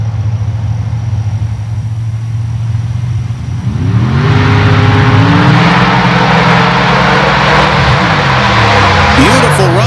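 A dirt drag racing car launches down a dirt track at a Steelville, Missouri championship event, its engine roaring loud and rising through the gears for several seconds after a quieter idle, with a commentator likely talking underneath.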